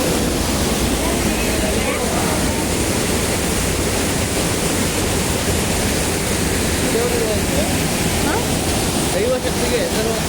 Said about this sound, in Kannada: ನೀರು ಬೆಟ್ಟದಿಂದ ಬಂದಿರೋ ನೀರು ಬಂಡೆ ಮೇಲಿನ ಬರೋ ನೀರು